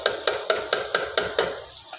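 Masala with tomato paste fries and is stirred in a heavy open-mouthed handi for chana dal, with about seven regular scraping stir strokes over a steady sizzle.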